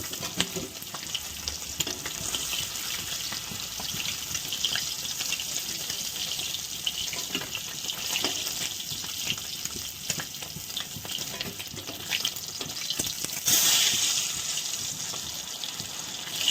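Pieces of rohu fish fry in hot oil, a constant crackling sizzle with scattered spatula clicks and stirring, and a brief watery gush near the end.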